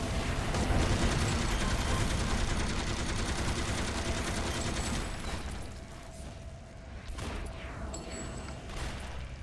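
Sustained heavy gunfire in a team shooter game with a squad of eight, a loud continuous roar of overlapping shots that eases slightly toward the end, with a few sharper cracks near the close.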